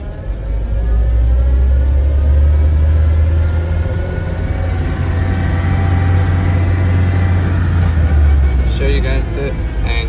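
A 1993 Land Rover Defender 110 diesel rumbles steadily close by while reversing, a deep low engine drone running throughout with a brief higher rattle near the end.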